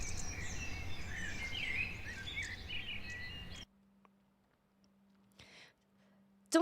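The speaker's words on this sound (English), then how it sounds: "Making me hear the little birds chirping outdoors." Small birds chirp and twitter outdoors for a few seconds, then the sound cuts to near silence with a faint hum.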